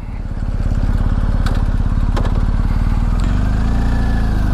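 A BMW R1250 GS motorcycle engine runs loud and close on a chilly day, its steady low rumble building as the bike pulls away, with a brief clatter partway through.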